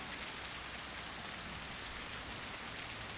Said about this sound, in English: It's been raining this entire time as well.